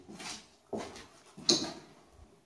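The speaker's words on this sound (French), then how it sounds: "Tapez dans une porte, fermez une porte." Several soft door knocks or closing thuds in an indoor space, four separate dull bumps spaced about a second apart, faint and somewhat muffled, no speech.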